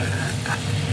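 A spoon scrapes steadily as milk is stirred in a hot pan for sweet yogurt, with a soft sizzle beneath it. The sound is brief, close and continuous, with no voices.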